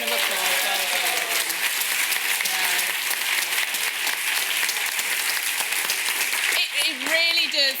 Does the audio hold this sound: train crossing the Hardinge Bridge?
no